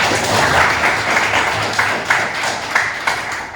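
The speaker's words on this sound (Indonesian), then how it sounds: "Tepuk tangan semuanya." A classroom audience claps together, a short burst of close, fairly loud clapping with a few sharper individual claps standing out as it trails off.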